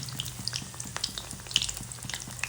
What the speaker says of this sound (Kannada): ಗ್ಯಾಸ್ ಲೋ ಫ್ಲೇಮ್ನಲ್ಲಿ ಇಟ್ಟಂದ್ರೆ ನೀಟಾಗಿ ಕರಿತೈತ್ರಿ